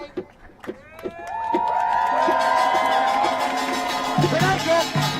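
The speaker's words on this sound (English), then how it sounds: "Can I get one more cheer for all the organizations that help us to organize this rally today?" An outdoor rally crowd at a Washington, DC collective safety event erupts in loud, sustained cheering and whooping that swells after a few scattered early shouts and holds for several seconds.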